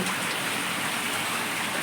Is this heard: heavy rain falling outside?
yes